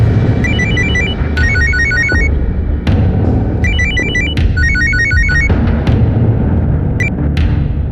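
A telephone ringtone on an outgoing call repeats in several bursts of rapid high electronic trilling, with short gaps, loud over a noisy indoor background.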